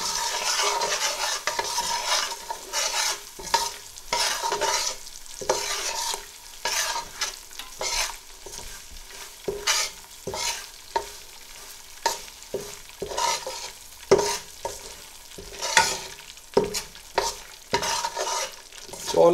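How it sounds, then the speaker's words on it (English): A cup of semolina toasts in a hot pan with ghee and cardamom seeds, as a spoon stirs it in quick, repeated scraping strokes over a soft sizzle, close and fairly loud, without any talk. "I'll add 1 cup of semolina or suji to it. I'll give it a stir"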